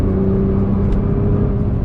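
A 2008-era R35 Nissan GT-R driven hard through corners, its engine and drivetrain a loud, steady droning hum from inside the cabin with a constant low rumble of road noise.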